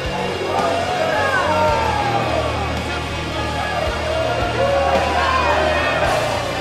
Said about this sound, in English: This crowd letting him hear it